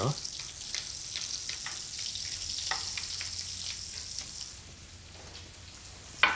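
Scallops sizzle and fry in a hot pan in a chef's kitchen, a steady crackling hiss with small spits and pops that eases slightly toward the end.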